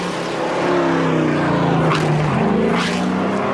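NASCAR Canadian Tire Series stock cars, including a Ford, racing through a tight hairpin at the Edmonton track, engines droning loudly and steadily with rising and falling pitch as cars pass close by.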